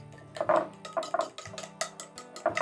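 Chicken tender ingredients are mixed in a bowl: a spoon clinks and scrapes against the sides in irregular, close strokes, with soft stirring sounds between the knocks, and no talk.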